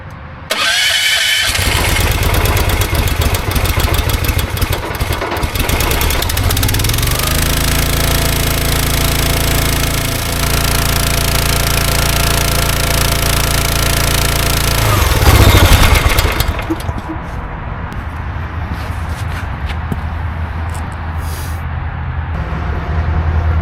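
An EastonMade 12-22 log splitter's engine started and run to warm the hydraulic oil, a loud, steady, close-up mechanical roar that drops to a lower, quieter idle near the end.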